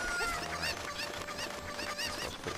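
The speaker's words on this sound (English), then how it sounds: "These chickens can fly so well, she shouldn't have them in such a low pen." Chickens in Zelda: Ocarina of Time cluck and squawk in a busy, continuous run of game fowl calls, fairly loud and steady throughout.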